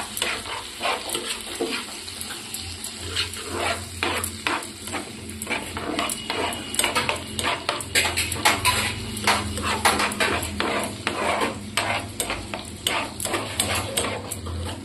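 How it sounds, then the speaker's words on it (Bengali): Spice paste for soyabean kosha sizzling and being stirred in a wok, with steady frying hiss and repeated scraping and clinking strokes of a spatula against the pan, close and continuous throughout. "এবার কড়াইয়ের মধ্যে মশলাটা দেওয়ার পর ভালো করে কষাবেন"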